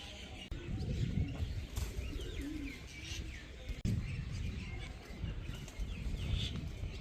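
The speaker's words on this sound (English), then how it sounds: "Damn pigeons have taken over this one, pooping everywhere." Pigeons coo steadily and close by on a building in Thailand, their soft rolling calls mixed with occasional chirps and a brief flutter of wings.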